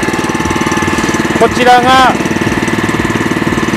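Walk-behind grass cutter with a spinning blade running its engine steadily and loudly up close, with a rapid pulsing chug throughout while someone speaks briefly over it.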